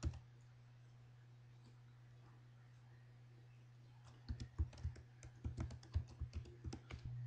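Typing on a computer keyboard while composing a tweet: after a few quiet seconds over a steady low hum, a quick run of close, uneven key clicks starts up and keeps going to the end.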